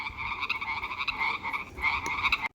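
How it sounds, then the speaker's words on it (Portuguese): A frog croaks steadily nearby, a continuous pulsing, rattling call that runs without pause for a couple of seconds before cutting off abruptly. "O sapo faz."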